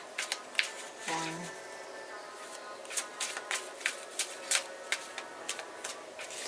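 Tarot cards being shuffled, a rapid series of crisp riffling snaps and short flutters repeating at a steady pace, close and fairly quiet with no talking.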